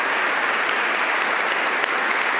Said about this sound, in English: A warm applause for Tim Jackson and Catarina Moiteiro.